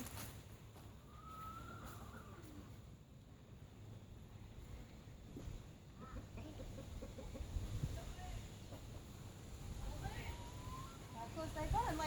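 Faint, occasional chicken clucks and soft squawks from inside a coop over a low background rumble, heard from a short distance.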